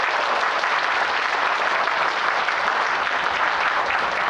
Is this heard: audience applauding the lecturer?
yes